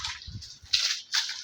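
Short splashes of water poured over a cow in two or three quick gushes, close by, with brief pauses between them.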